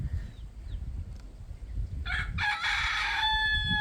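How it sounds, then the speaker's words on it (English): A Tongan rooster crows once, fairly near and loud, a rising then sustained cock-a-doodle-doo after a few faint clucks, over low outdoor background noise. "Tongan chicken."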